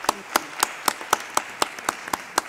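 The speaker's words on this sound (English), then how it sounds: "let me ask you to join me in giving a good round of applause to all our panelists" Conference audience giving panelists a round of applause, heard as sparse, distinct hand claps at a steady rhythm rather than a dense ovation, moderately loud in a hall.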